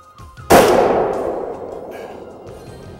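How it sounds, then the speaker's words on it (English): A single shot from a .375 H&H Magnum rifle cracks out loud and sharp, then a long rumbling echo slowly fades over the next few seconds. "I want to fire a round out of a 375 H&H Magnum."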